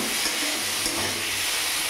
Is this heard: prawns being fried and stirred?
yes